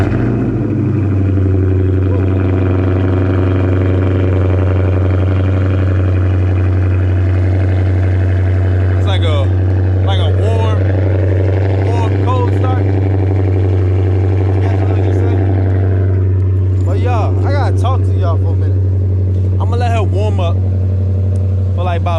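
A Chrysler 300 engine idles as it warms up, a steady, loud low hum with a deep drone underneath that runs throughout, while a person talks over it.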